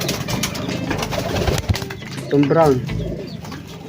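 Racing pigeons coo in a home loft during a pooling season, a soft throaty burst rising midway through and sitting close against steady background noise while someone talks over it.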